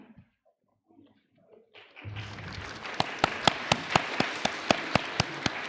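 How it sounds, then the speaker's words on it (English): An audience at an education conference applauds a chief guest. After near silence, the clapping builds into steady applause, with a few loud, regular, close claps standing out above the crowd. "I request everyone to give a big round of applause to our chief guest, Izangi Tapa."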